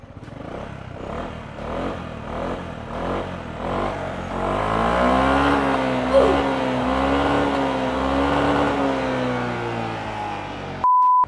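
Yamaha New XMAX 250 Connected 2023 scooter engine running nearby, its tone climbing through several revs with a rising, wavering pitch, then holding a steady higher drone before a brief beep at the end.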